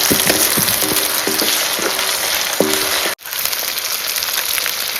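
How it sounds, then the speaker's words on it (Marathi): Loud, constant sizzling from tomatoes frying in a hot pan on a wood-fired stove, with a few light clinks and stirring sounds mixed in. "आता हे टोमॅटो बरोबर थोडंसं म्हणजे मऊ जायपर्यंत भाजू"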